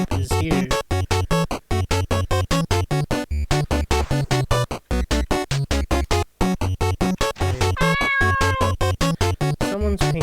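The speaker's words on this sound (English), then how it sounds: "The latex beast cat was startled by this decoy" A latex beast cat creature in the video game Changed meows loudly and repeatedly in a fast, regular rhythm, with tonal game sound throughout and no speech.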